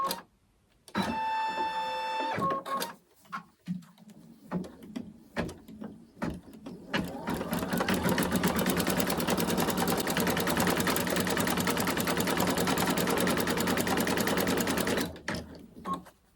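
A Brother Innovis embroidery machine stitching on a sweatshirt, starting with a few beeps and clicks, short bursts of stitching, then a long steady rapid mechanical whirr up close before it stops.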